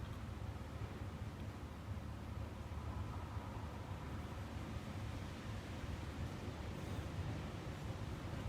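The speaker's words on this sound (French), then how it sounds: "Et il y a du vent." Wind blows steadily outdoors on a cool day with a storm brewing, a continuous low rumbling roar buffeting the microphone without a break.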